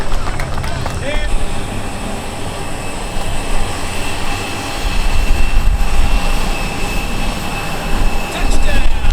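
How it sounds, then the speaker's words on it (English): Airplane landing at a county airshow, with a loud, continuous engine roar and rumbling wind noise that swells toward the end; no speech is audible over it. "touchdown. Perfect landing."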